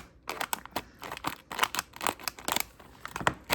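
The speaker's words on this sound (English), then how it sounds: "an X-Acto knife or scissors to be able to cut this bag open" Quick, crisp snips and crinkles of scissors cutting through a plastic bag, a rapid irregular series of sharp close-up cuts.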